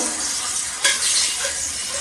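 Eggs sizzle and fry steadily in a pressure cooker pot for egg biryani, with a brief scrape of stirring partway through.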